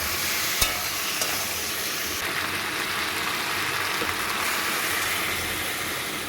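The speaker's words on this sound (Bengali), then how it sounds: "আমি আদা, জিরি আর কাঁচা লঙ্কা পেস্ট করেছিলাম সেই মশলাটাও দিয়ে নাড়াচাড়া করতে থাকবে।" A paste of ginger, cumin and green chili fries with turmeric in a pan and is stirred continuously, giving a steady close sizzle with a few sharp clinks of the spoon against the pan early on.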